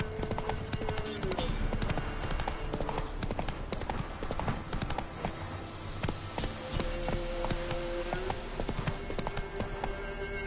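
Rapid rhythmic hoofbeats of a horse galloping in a video game on a PS5 Pro, steady and continuous, with occasional snorts, under game music and a voice.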